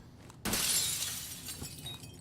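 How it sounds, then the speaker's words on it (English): Glass shatters in a Call of Duty League esports match, a sudden loud crash that rings on briefly before trailing off under game ambience. "as the glass breaks"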